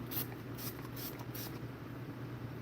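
Scandinavia setting spray misted onto a face in several quick, soft hissing pumps in the first second and a half, faint and close over a steady low hum.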